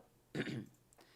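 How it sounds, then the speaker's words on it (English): A single short, harsh cough or throat-clearing burst, close and fairly loud, followed by quiet. "just like endless coughing here"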